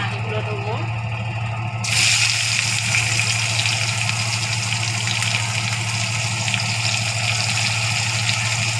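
Chopped onions go into hot oil in a pan for a potato and bhetki fish curry, and a loud, steady sizzle starts about two seconds in and continues under a constant low kitchen hum.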